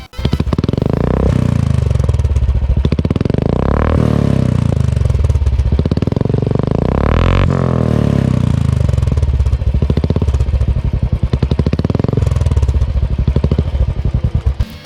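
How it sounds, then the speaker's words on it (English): A Royal Enfield Classic 350 motorcycle fitted with a Red Rooster Performance exhaust rumbles loud and close, thumping at idle and rising in several revs before dropping back to a lumpy beat. "So let's hear the exhaust note of this bike."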